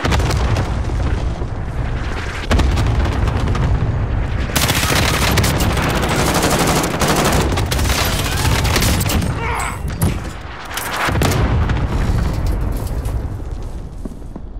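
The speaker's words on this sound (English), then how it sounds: "Good copy. Cluster strike away." Cluster strike explosions in a battle royale video game, a loud, dense barrage of booms and rapid gunfire-like blasts rolling continuously, with a brief lull before another heavy burst.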